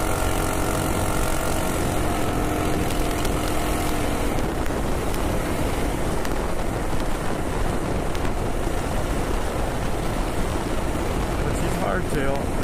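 Lil' Fatty minibike engine labouring up a big hill, a loud, steady drone mixed with heavy wind rush that holds for the whole ride with no pauses.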